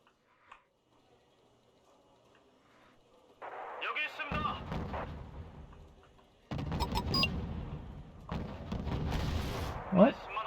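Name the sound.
artillery and gunfire in the video game Wargame: Red Dragon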